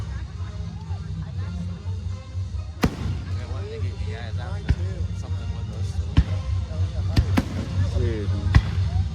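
Fireworks at the 2024 Arthur, Illinois show go off overhead as several sharp, loud bangs scattered among crackling, while onlookers nearby talk and exclaim throughout.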